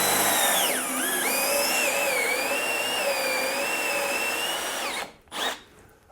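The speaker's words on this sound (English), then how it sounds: "So let's get this in the drill and the vise" A power drill bores into a log held in a vise for beginner log furniture, a loud close whining motor with shifting pitch as it bites into the wood, then cutting off abruptly.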